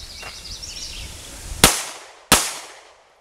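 Two sharp, close gunshots crack about a second apart at a reactive balloon target, each with a brief fading tail, after a faint high whine.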